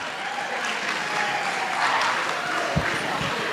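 Audience at a gala auction in Arizona applauding after a bid is won, a dense steady wash of clapping from a sizable crowd throughout, with a few louder claps near the end.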